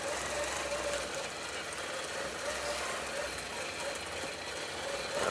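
Longarm quilting machine stitching freehand in regulated mode, a steady mechanical hum with fine rapid needle ticking held at even level throughout, close by, no talk.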